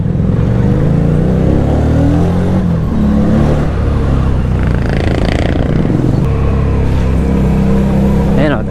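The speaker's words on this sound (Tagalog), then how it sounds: "Malaking factor sa safety yung kanyang engine or yung exhaust sound." A FKM Victorino 250i, a 250cc motorcycle, revs loudly with a steady rumbling engine and exhaust note, pitch rising and falling through throttle blips, close and continuous for the whole stretch.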